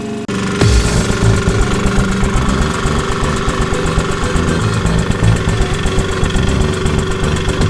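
A lawn mower engine starts with a sharp thump and then runs at a steady, loud, close-up idle with a rapid knocking pulse, with no speech over it.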